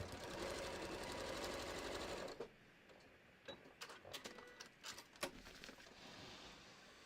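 A sewing machine runs in a steady, loud, continuous burst of stitching on a bucket hat for about two seconds, then stops, leaving quieter handling clicks and rustles of the fabric.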